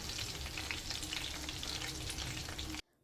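Pieces of nemmeen fish fry in hot oil in a pan, giving a close, loud, steady sizzle and crackle that cuts off abruptly just before the end.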